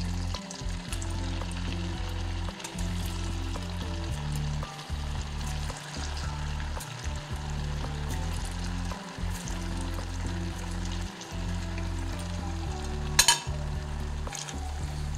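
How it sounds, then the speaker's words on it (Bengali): Potato bites fry in hot oil over medium-low gas, a dense steady sizzle and bubbling with a low rhythmic hum beneath and one brief clatter near the end, no voices. "এবার এগুলো ভেজে নেব"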